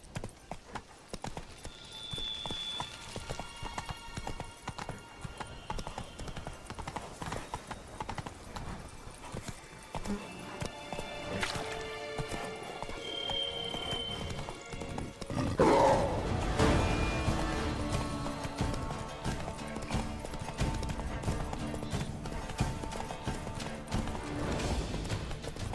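A horse's hooves clip-clop steadily in The Witcher 3, a rhythmic pounding that picks up and grows heavier midway, alongside game music and ambient effects.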